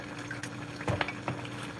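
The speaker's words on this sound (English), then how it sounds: "to that I'll also add a little water" Water is poured into a pot of Nigerian ogono-style okro soup with red oil already in it, a short close splash and gurgle heard alone.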